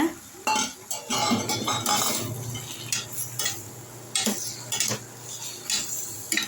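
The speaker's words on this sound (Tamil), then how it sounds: "இந்த மாதிரி நல்லா கிளறி அதில் வதக்கி விட்டுக்கோங்க" Radish and drumstick pieces stirred and sautéed in a pan for green-chilli sambar, with repeated metal utensil scrapes and clinks against the pan over a low steady sizzle, moderately close.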